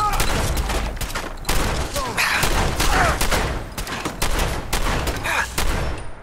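Rapid gunfire in Fallout 4, dense bursts of loud, close shots firing nearly continuously with short gaps, and a voice speaking briefly over the shooting.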